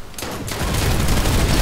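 Dense, rapid gunfire from a Planetside 2 battle, several weapons firing over one another; it starts quieter and swells into a loud, continuous barrage after a brief lull.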